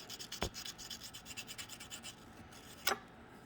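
A FELCO 13 hand pruner blade is sharpened flat, with quiet close rhythmic rasping strokes of a sharpener across the metal surface and two sharper scrapes, no voices.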